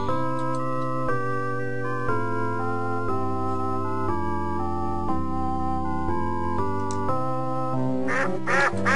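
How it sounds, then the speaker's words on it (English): Ducks quacking in the video game Simon the Sorcerer, mixed with steady, loud game music that plays throughout, with a burst of noisier sound near the end. "Past the guy with the ducks."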